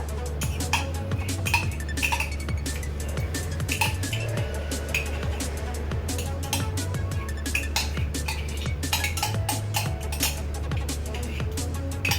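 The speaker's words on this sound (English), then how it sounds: "Alright, so then you just want to give it a nice stir." A spoon stirs pumpkin pie filling with butter in a bowl, making light clinks and soft scraping, close and steady throughout under a continuous low musical backing.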